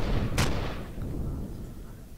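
A single sharp, heavy blast from a sentry gun in the space game Empyrion, loud and close, followed by a rumbling decay and low background noise.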